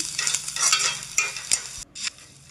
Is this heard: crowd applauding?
no